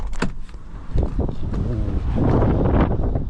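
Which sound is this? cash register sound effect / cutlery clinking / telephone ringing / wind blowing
wind blowing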